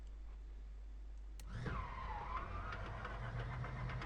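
A DHC-2 Beaver engine starts in a flight simulator video game: a sharp click, then a whining, sweeping tone and rising rumble as the engine catches and keeps running, fairly faint overall.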